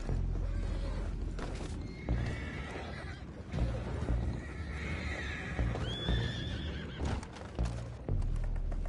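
Horses neigh and whinny in Red Dead Redemption 2, with clip-clop hooves and a rising whinny near the end, loud and close over a constant low rumble of ambient game noise.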